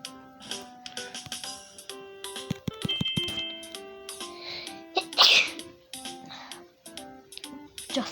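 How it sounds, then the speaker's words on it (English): A person sneezes once, a sharp loud burst in the middle of a busy stretch of game sounds, short chimes and clicks from a tree-growing game playing close by. "just sneezed."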